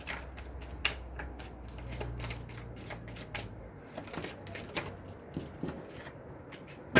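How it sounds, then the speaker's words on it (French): Tarot cards being shuffled in a steady run of crisp riffling clicks and soft flutters, close and fairly quiet over a low hum, with a few sharper snaps toward the end. "s'il me laisse brasser les cartes, ce serait bien"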